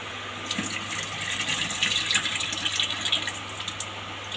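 Sweet corn kernels are washed in a bowl under running tap water, giving a close, steady splashing and trickling with some light swishing, over a faint background hum and with no talking.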